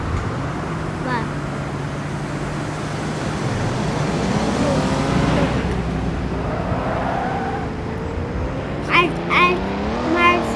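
A drifting car's engine revs and drones steadily while it turns around, loud and continuous, with the pitch rising and falling and a voice briefly over it near the end.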